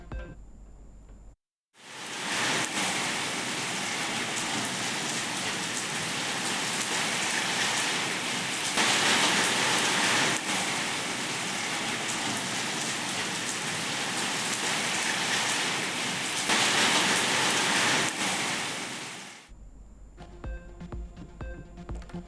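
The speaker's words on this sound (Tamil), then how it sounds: "அரசு பேருந்தில் மழைநீர் கொட்டியதால் பயணிகள் இருக்கையை விட்டு ஓட்டம் பிடித்தனர்" Heavy rain pours down steadily inside and onto a government bus, a dense continuous hiss and patter that swells slightly in places, then stops abruptly near the end.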